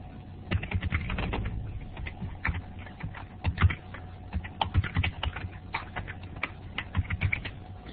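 Fingers type customer records into a spreadsheet on a computer keyboard, a close, irregular patter of key clicks with short bursts and pauses, no talking.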